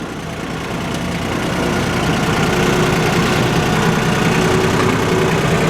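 A logging truck engine idles in neutral, a steady low rumbling drone with constant vibration, loud and close, no talk.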